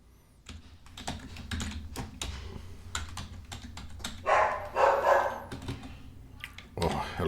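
A puppy lets out a few high yips and barks nearby, mixed with steady computer keyboard typing in a home office, and a voice speaks briefly.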